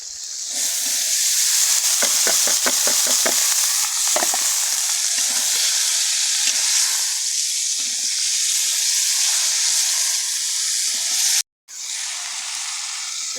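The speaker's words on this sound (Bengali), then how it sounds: "এখন আমি সবজি দিয়ে দিব" Vegetables tipped into a hot pot of oil in a village kitchen, a loud steady hissing sizzle with a quick run of stirring clinks early on, close and without talk.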